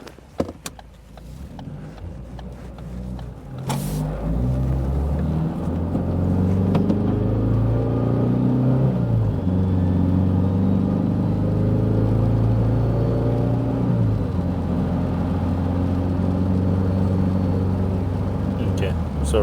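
A car with an intermittent stalling fault drives on a rainy road, its engine rumbling and rising as it accelerates, with steady road and tire noise beneath someone talking throughout.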